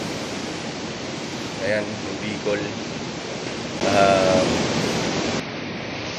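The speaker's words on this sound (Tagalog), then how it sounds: "So malakas pa rin ang hangin." Strong typhoon wind roars steadily in a rural Bicol setting as a storm nears, a dense close rushing noise with gust swells, while someone talks over it.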